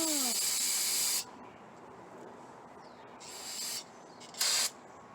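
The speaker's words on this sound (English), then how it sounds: "Are you gonna get all that brake parts cleaner on you?" Brake parts cleaner sprays from an aerosol can during cleanup on a Murray Select 22-inch push mower, heard as a steady hissing burst for about a second, then a quieter spray and a final short sharp blast.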